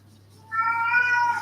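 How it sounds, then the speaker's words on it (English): A house cat gives one drawn-out, fairly loud meow close by, demanding dinner, after a brief moment of near silence. "And my cat's getting angry. He's claiming it's dinner time"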